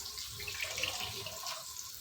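Quiet, steady stream of water pouring and splashing onto chopped Malabar spinach, with faint trickling.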